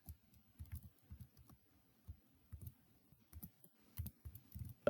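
Quiet typing on a computer keyboard while entering pricing details, with irregular bursts of soft key clicks and short pauses between words.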